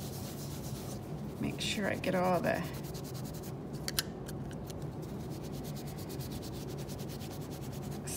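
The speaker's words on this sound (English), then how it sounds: "I'm gonna wipe these off with my towel." Cloth towel wiping small tin jewelry pieces, a few brief rubbing and scraping strokes near the start and middle over a low hum, while a person speaks quietly.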